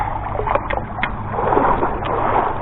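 A Traxxas RC boat runs across the water, its motor a steady buzzing whine with splashing and sloshing, fairly close and continuous throughout.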